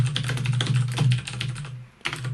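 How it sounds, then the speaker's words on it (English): Rapid typing on a computer keyboard, close and clear, with dense overlapping key clicks over a steady low hum, a brief pause, then a few more keystrokes. "You can type in your thoughts on"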